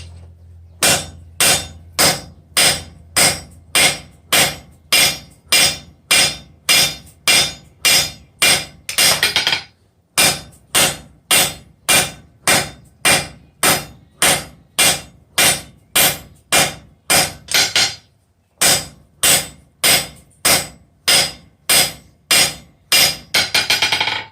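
Hot steel is hammered on an anvil to forge a bick iron, squared down and drawn to a taper, in loud, evenly spaced ringing blows that come in three long runs separated by brief pauses.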